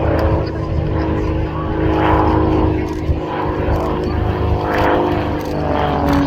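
A Tutor propeller trainer aircraft displays at the RAF Cosford Airshow, its engine drone steady and fairly loud with swelling passes, while a commentator talks over it.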